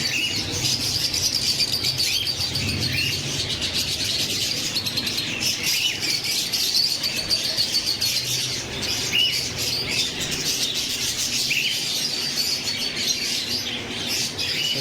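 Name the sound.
parrots chirping and squawking at a bird market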